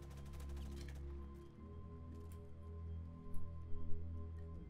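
Rapid automatic gunfire from a video game shooter, a dense rattling burst in the first second or so, then a steady game soundscape with a few sharper bursts near the end.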